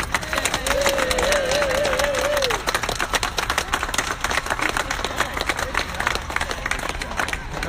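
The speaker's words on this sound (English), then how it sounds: "let's give a big round of applause to everybody involved" A crowd at a city press conference gives a round of applause, sustained clapping heard at moderate distance, with a brief whistle-like tone early on and background chatter underneath.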